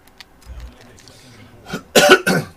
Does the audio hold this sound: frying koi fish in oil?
no